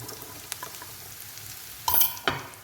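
Shallots, onion and curry leaves frying in oil for a beef curry give a soft, continuous sizzle. Two louder bursts of hissing and scraping near the end sound like stirring, and no one speaks.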